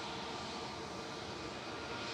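A passenger aircraft on arrival from Barcelona gives off a faint, distant, steady engine rumble that stays even throughout, with no talking.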